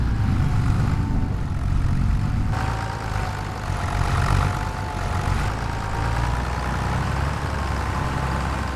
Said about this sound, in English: This tractor is seeing some use.